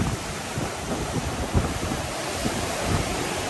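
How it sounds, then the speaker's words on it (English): Strong wind at a beach buffets the microphone in a constant loud roar, with surf rumbling underneath and no voices. "The wind is too strong today though."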